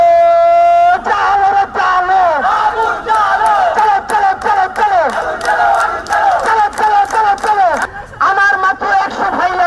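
A large crowd at a Bangladeshi political rally chants a slogan in loud rhythmic unison, call-and-response bursts repeating across the whole stretch with a lead voice calling out over the massed voices.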